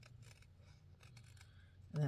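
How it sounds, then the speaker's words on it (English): Scissors snip trim for junk journal tags in a few soft, close cuts over a low background hum, and a voice starts speaking right at the end. "I'll use those scissors"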